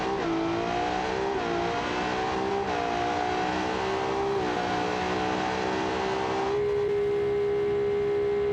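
A Pagani Zonda engine in BeamNG.drive gives a loud steady high-pitched drone that holds near one pitch, dips slightly a few times and drops as the revs ease near the end.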